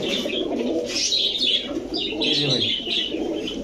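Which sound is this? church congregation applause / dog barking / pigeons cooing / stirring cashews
pigeons cooing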